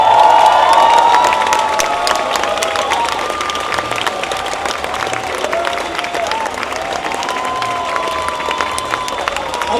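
Audience at a math rocks festival talk breaks into sustained applause with cheering and whistles, loud and dense throughout, a few voices calling out over the clapping.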